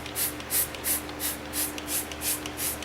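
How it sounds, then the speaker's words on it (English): Rhythmic bursts of a spray bottle of cleaner being squeezed, about eight short hissing sprays at a steady pace, close by, with no voices. "I'm just gonna spray that on here,"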